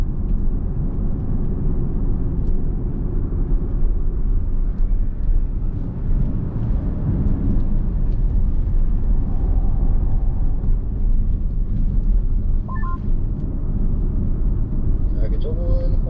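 A Kia car accelerates along a short straight on a circuit, giving a continuous loud, heavy engine and road rumble heard from inside the cabin for the whole stretch.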